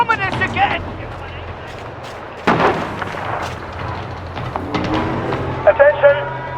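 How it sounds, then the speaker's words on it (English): Bombing explosions in the video game We Happy Few, with a sudden heavy boom midway that rumbles and fades amid gunfire-like cracks, while voices speak over the din before and after. "They're bombing us again!"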